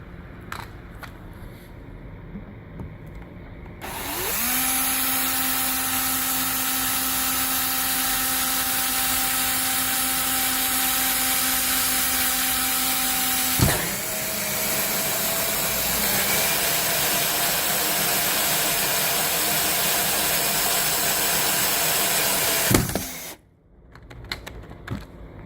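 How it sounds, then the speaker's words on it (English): A power drill bores holes into the rear bumper of a 2005 Mercedes CLK, a loud, sustained high whine that steps down partway through, then cuts off abruptly when the bit breaks through. "and then you just start drilling."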